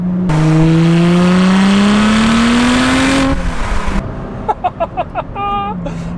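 Lotus Exige Sport 350 engine revving loudly and steadily climbing in pitch for about three seconds, then cutting off abruptly, followed by someone talking close by.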